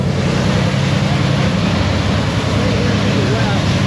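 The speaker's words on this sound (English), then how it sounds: "Follow the sound of engines running." NHRA drag racing car engines running, a loud, dense, steady roar that fills the whole stretch without breaks.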